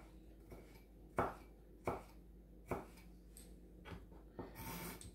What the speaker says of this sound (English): Then we'll take the slices and we'll chop it up.